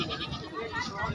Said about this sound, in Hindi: ये कहीं बकरी है बकरी